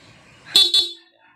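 A stock horn on a Honda ADV 160 scooter sounds two short, loud honks in quick succession, close by, with quiet surroundings before and after.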